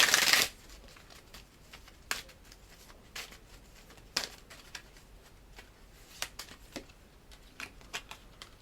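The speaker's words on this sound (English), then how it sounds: "Okay, I'm going to shuffle that again." A deck of tarot oracle cards is shuffled close by, opening with a quick riffle burst followed by scattered soft slaps and taps of cards being cut and restacked.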